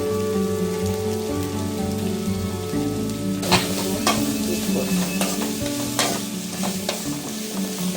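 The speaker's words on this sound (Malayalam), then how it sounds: "ഇത് വാടുന്ന വരെ ഇളക്കണം." Jackfruit and chicken are stirred in a hot pan in Kerala style, with a steady sizzle and frying hiss punctuated by scraping and clinking of the spoon against the pan, close and continuous.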